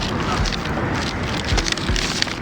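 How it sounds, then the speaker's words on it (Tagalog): Steady rain falls outdoors in a broad, dense hiss, fairly loud and close, with a few low thumps and wind buffets on the microphone and no one speaking. "Umuulan pa kasi."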